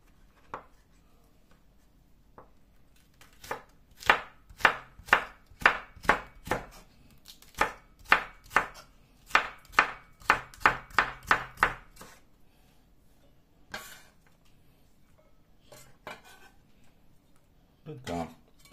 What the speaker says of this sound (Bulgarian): Така, другата половина нарязваме на две.